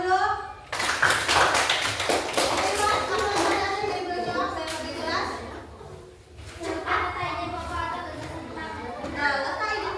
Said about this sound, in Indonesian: Nah, oke, tepuk tangan dulu.